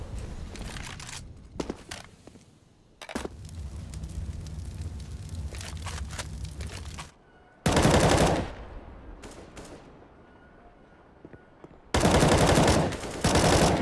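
Automatic rifle fire in a Counter-Strike match on the Train map, shooting through a wall in long, loud rattling bursts split by quiet gaps, with footsteps and smaller game sounds between the volleys.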